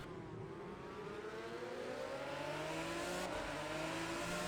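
A race car engine from the driving game Project Cars 2 holds a steady, rising drone with whining harmonics that climb gradually, loud and continuous throughout with no voices.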